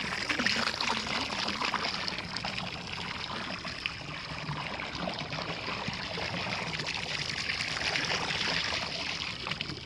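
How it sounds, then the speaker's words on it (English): A gallon of liquid chlorine is poured into a swimming pool as an algae treatment, making a steady, continuous splashing pour that runs for about ten seconds with no talking. "Then I'm going to take 1 gallon of liquid chlorine and pour it right over the spot where I put the sodium bromide."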